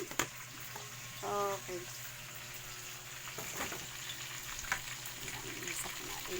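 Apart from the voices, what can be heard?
sautéing garlic, ginger and tomato in a pan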